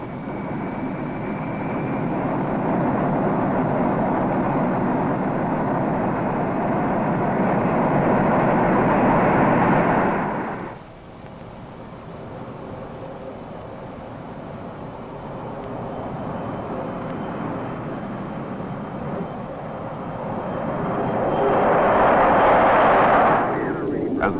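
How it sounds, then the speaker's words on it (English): A B-52 bomber carrying the X-15 rocket plane roars loudly on takeoff and climb-out, a broad sustained jet rumble that drops away abruptly partway through, then a quieter drone before another surge of engine noise. "As the bomber climbs out,"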